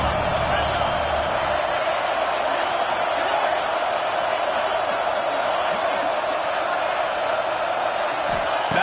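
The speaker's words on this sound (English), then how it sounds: "Decibels rising as the crowd gets behind this defense on 3rd down." A football stadium crowd roars on third down, a dense, sustained wall of cheering and noise that holds loud throughout, with a commentator talking over it.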